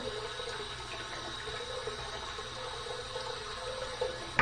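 Water swirling in a bathroom sink to warm a safety razor, a steady low splashing and trickling that holds at an even level throughout, close by with no talking.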